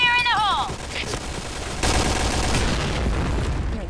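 Explosive blast and rapid gunfire from a Piercing Blow shooter match, a loud boom followed by dense sustained shooting with brief voice-like bits up front.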